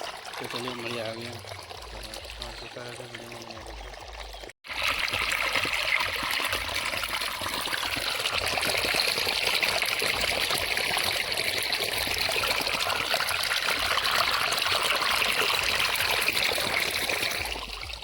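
Irrigation water rushes into a farm field as a steady, loud, close flow that runs unbroken for most of the stretch, after a brief spell of talking and a short gap at the start.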